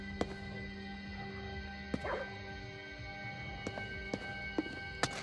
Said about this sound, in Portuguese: tem um cachorro aqui